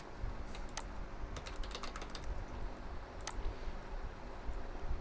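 Someone types a name and password on a computer keyboard, quick bursts of light clicking keystrokes with brief pauses, faint and close, with no talk.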